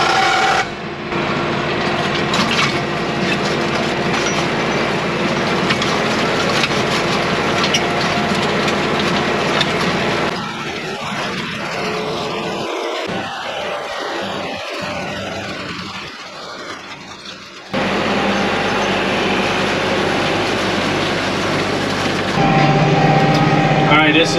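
Seed drill planting a fall food plot on a bank, a steady rasping, grinding machine drone running loud and continuous, dropping away briefly midway before resuming, with a voice talking over it.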